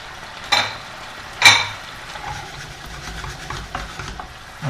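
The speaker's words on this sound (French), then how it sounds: "Je vais maintenant verser dans la poêle une louche d'eau des pâtes." A ladle of pasta water splashes into a hot pan of sizzling pancetta fat for spaghetti carbonara, giving two sharp pours and then a steady close sizzle with light stirring and scraping.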